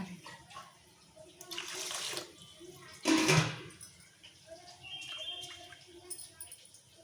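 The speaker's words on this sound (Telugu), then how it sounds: "ఇప్పుడు వాటర్ పోసి బియ్యం నానబెట్టుకోవాలి" Water splashes and pours in two bursts into a container of rice for soaking, the second louder and closer, with quiet room noise in between.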